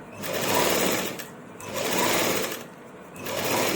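A sewing machine stitches shirt fabric in three rhythmic bursts of rapid mechanical whirring, close and fairly loud, with brief pauses between runs.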